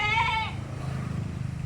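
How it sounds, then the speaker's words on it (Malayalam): A two-tooth milk goat that has kidded once gives a single clear, wavering bleat up close, followed by low background rumble. "അവിടെ പാലുള്ള ആടാട്ടോ"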